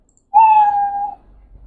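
A Scratch sprite plays its cat meow sound: one short, clean, tonal cry lasting under a second, loud and alone, trailing into faint low noise.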